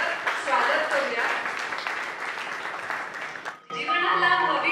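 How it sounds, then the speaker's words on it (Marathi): Audience at a Marathi book launch ceremony gives a sustained round of applause, a thick wash of many hands clapping at moderate level, briefly dipping before resuming. "टाळ्या वाजून आपण सगळ्यांचे एकदा परत स्वागत करूया"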